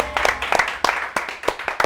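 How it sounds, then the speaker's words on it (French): A small group applauding the winning team, with scattered, uneven hand claps in a quick irregular rhythm, close and moderately loud. "je vous prie de les applaudir"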